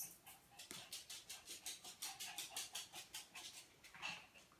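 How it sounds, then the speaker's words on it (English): A dog running into a room, with a quick run of rhythmic soft pattering and panting-like bursts, faint and close, steady for several seconds. "that's my dog Shelly that just ran in, if you're wondering."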